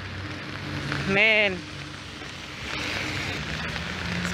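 Heavy rain falls on a busy street in Nairobi, a continuous hissing patter close by. A voice briefly breaks in early on, then the downpour carries on alone.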